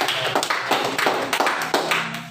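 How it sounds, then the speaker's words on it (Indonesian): A student group in a guidance session claps together in a quick, even rhythm of sharp bursts, about three per second, close and fairly loud with no talk over it. "Beri tepuk tangan."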